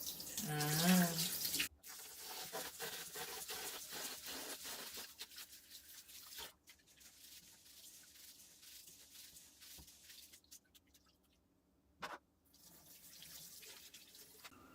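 Tap water runs into a sink as rice is washed, a loud splashing rush at first that softens to gentle trickling and rubbing of grains, with a brief burst of flow near the end.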